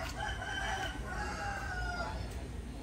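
Chickens in a coop next to a rural garden house in Binh Phu, Cai Lay, Tien Giang, with a rooster crowing close by in a drawn-out call over steady background noise.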